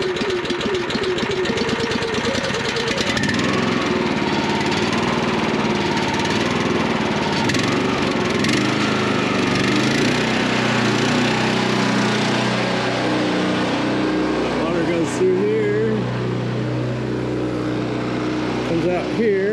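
A Harbor Freight Predator small engine runs steadily at a constant, loud idle throughout, with a rough mid-pitched drone and some faint background noise.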